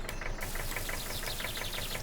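A vintage tractor engine idles while a trailer is loaded, giving a steady, faint, rhythmic knocking chug that runs throughout.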